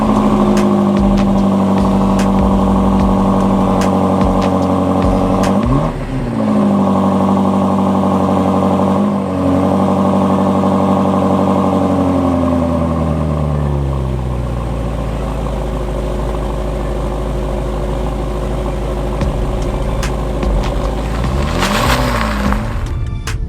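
A 2018 BMW M5 engine growls loudly up close, its revs rising and dipping in smooth sweeps before settling into a deeper idle-like rumble, with no talking over it.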